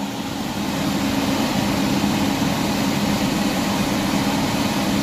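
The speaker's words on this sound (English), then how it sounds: "I do hear the system turning over. The condensing unit is on." A running HVAC system, with the condensing unit and furnace blower motor on, gives a loud, steady, low mechanical hum and broadband rush. It rises slightly in the first half second, then holds constant with no talking.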